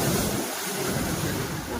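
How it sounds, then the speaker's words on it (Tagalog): Strong sea waves pounding the shore during Typhoon Nando, a loud continuous roaring surf mixed with heavy wind buffeting the microphone, close and unbroken throughout. "Hindi ko lang mabidyohan kasi napakalakas ng dagat."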